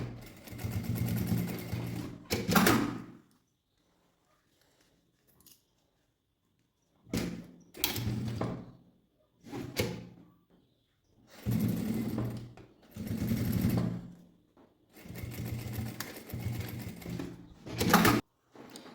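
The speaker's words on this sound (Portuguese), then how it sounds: "primeiro eu vou fazer a costura aqui, ó, bem na beiradinha" Sewing machine stitching along the edge of a fabric lipstick holder, running in several close bursts of rapid whirring stitches separated by silent pauses and brief handling clicks.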